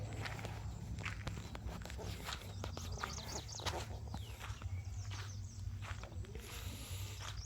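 Quiet footsteps crunch steadily along an outdoor path toward a house, set against a constant low background hum with faint bird chirps.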